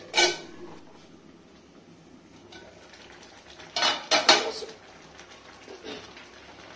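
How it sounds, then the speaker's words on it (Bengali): A metal lid set onto a cooking pot of simmering homemade tomato sauce, giving a sharp clatter at the start and a louder cluster of metallic clanks midway, with quiet kitchen background between. "আবার একবার ঢাকা দিয়ে দিই।"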